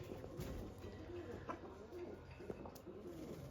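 Faint domestic pigeons coo softly in low, rolling calls, with a high steady whine and light background rustle.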